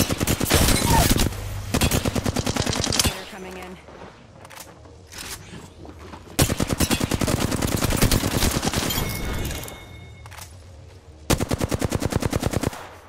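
Automatic weapon fire in the shooter game Apex Legends, coming in long rapid bursts broken by short gaps. The shots are loud, close and dense, with a voice speaking between them.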